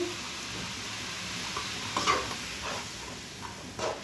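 Papaya cooked with turmeric in a pan gives a steady, hissing sizzle, broken by a few soft stirring scrapes, close and even with no talking.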